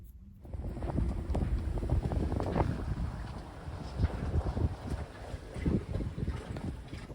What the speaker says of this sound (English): now the wind is supposed to be up to 25 tonight, or maybe 30